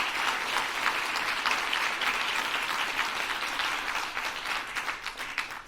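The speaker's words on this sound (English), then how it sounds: "So I hope you all will join me in giving a round of applause for Mark and Judge" An audience at a justice award ceremony applauds, a sustained, dense round of clapping from many hands that stays strong and even for several seconds before thinning slightly at the end.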